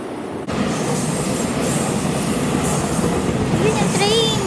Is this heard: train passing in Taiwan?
yes